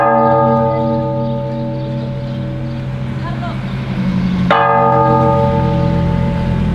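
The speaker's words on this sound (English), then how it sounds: "Mike ringing the bell" A town bell rings with a sustained metallic tone and an overtone-rich hum, then a fresh strike near the end, loud and close, with traffic or engine rumble in the background.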